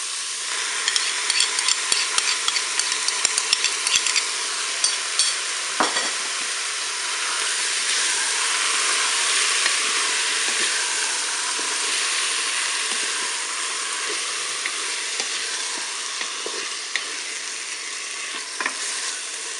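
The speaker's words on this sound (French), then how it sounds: "je vais mélanger la crème fraîche avec mes ingrédients tout de suite" Chicken and asparagus with crème fraîche being stirred in a Cookeo multicooker, a continuous close sizzle with scraping and occasional clicks of the utensil against the pot, no talking.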